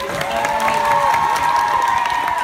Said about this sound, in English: Give yourselves a big round of applause for seeing this.